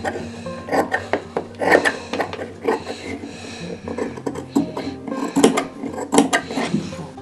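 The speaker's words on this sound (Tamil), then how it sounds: "இந்த பீஸை கட் பண்ணிக்கலாம்" Scissors cut a round U-shaped neck piece from fabric in a tailoring setup, giving close, uneven rasping snips and rubbing strokes of cloth with no talk.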